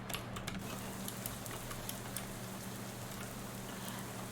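Steady rain falls in the video game Shadows Over Loathing, a continuous soft hiss with scattered ticking drops and a low hum underneath, moderately quiet throughout.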